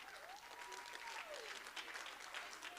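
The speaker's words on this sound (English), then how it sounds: "Let's give all the people that were organizing this a huge round of applause." Audience applause at a university ceremony, a steady, dense clatter of clapping hands filling the whole stretch at moderate distance, with a faint tonal whistle-like sound drifting through it.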